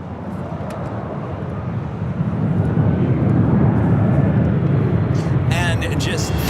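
A jet airliner taking off at Los Angeles International Airport gives a broad, rumbling engine roar that swells and holds steady at a moderate distance, with a brief crackle and faint background noise near the end.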